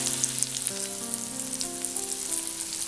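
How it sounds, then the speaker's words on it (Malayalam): Red spinach kofta balls frying in a pan of hot oil, giving a steady, close crackling sizzle that holds through the whole moment with faint stirring, and no talking. "ഇത് എണ്ണയിൽ കിടന്നിട്ട് മൂത്തിട്ടുണ്ട്"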